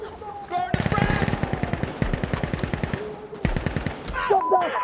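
Rapid automatic gunfire bursts crackle in Insurgency Sandstorm PvP, a dense run of close shots over about three seconds with brief gaps, then a shout and other game sounds.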